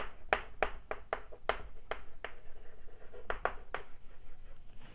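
Chalk or marker writing on a board in a physics lecture, a series of sharp taps and short scratchy strokes in uneven bursts, fairly close, with no voice over them.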